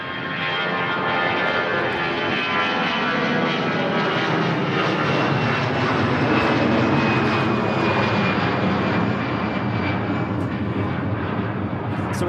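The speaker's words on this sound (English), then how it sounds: "Got Lufthansa heading to Munich next," Lufthansa Airbus A319 airliner at Manchester Airport, a loud, steady roar of jet engines that holds strong and continuous throughout, with a faint whine riding on top.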